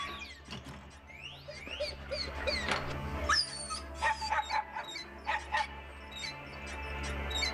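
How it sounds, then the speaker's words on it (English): A dog in the bonus ending of a survival horror video game barks and yips in quick scattered bursts over a low repeating musical drone, with some whimpering between the barks. "It's a dog, baby!"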